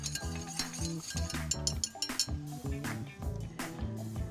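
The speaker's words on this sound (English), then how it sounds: "Whisk these ingredients together and boil until thick and syrupy." A whisk clinks and scrapes rhythmically against a bowl while mixing a mustard, brown sugar and whiskey glaze, with quick, repeated metallic taps at moderate volume.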